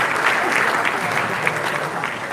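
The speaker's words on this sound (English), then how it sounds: "Please give another round of applause to all the speakers today" Steady applause from a conference audience at an energy forum, continuous and fairly loud throughout, with a faint voice audible underneath.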